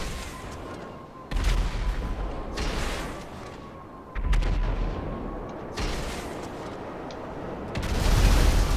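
Heavy missile explosions in GTA 5 Online boom out in several loud, deep bursts separated by a few seconds, each followed by a rumbling roar that slowly fades, with no talk over them.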